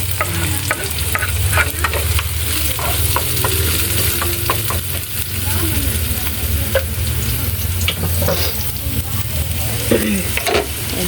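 Alugbati (Malabar spinach) and onion sauté in a hot pan, a steady loud sizzle with scattered stirring scrapes and clicks throughout, no talk.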